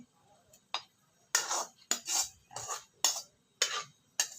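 A metal spoon scrapes and knocks against a pot in a string of short bursts as tempered drumstick leaves go into a curry, each stroke a separate rasp with quiet gaps between.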